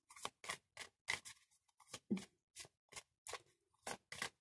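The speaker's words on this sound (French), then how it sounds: "je brasse les cartes" Rider Waite tarot cards being shuffled by hand, a series of quiet, crisp riffling bursts in an even rhythm, each short and papery, close and alone.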